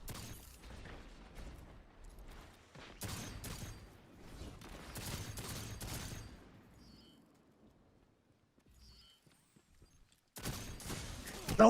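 Bursts of rapid gunfire in a Bungie shooter video game, with clustered volleys of shots separated by brief lulls and a final loud burst near the end, under faint background voice.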